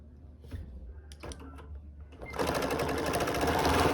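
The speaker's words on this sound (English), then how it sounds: "And just gently sew down to the seam and stop at the seam just like that." A sewing machine stitches down a quilt seam for a Flowering Prism quilt, starting after a few soft handling clicks and then running steadily and loudly for the last seconds, close up, with no talk over it.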